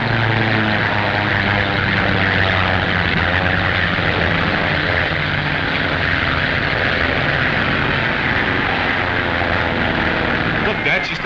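A propeller airplane races close around pylons at an air race, its engine a loud, steady droning roar that holds without a break for over ten seconds.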